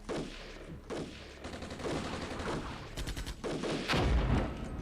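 Indirect artillery fire in the Armored Brigade war game, a dense run of explosions and gunfire with repeated sharp blasts, building to a heavy, loud boom near the end.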